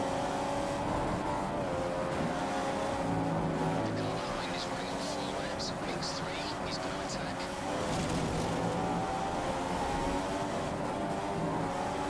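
A Ferrari Formula One car in the F1 2015 racing game at Spa, its high engine whine droning steadily and closing in behind, with someone talking over the engine noise.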